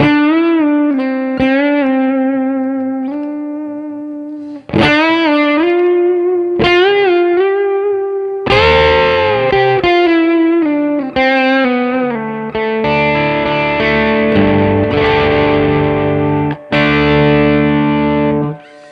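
An electric guitar on a Telecaster's bridge pickup plays sustained notes and chords through an Xotic booster pedal's crunchy distortion, loud and close, with hard attacks and ringing sustain.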